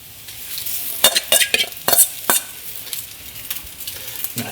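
Rice and eggs being stir-fried in a pan, a soft sizzle broken by a quick run of loud scraping and tossing clatters from the spatula, then settling back to quieter frying.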